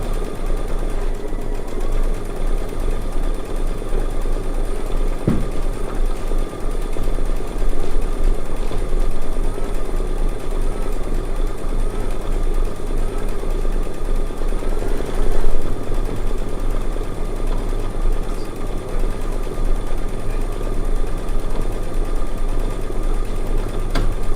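A Solaris sewing machine runs alone in a quilting room, a steady loud mechanical hum with constant vibration for the whole stretch, with no talk and no pauses.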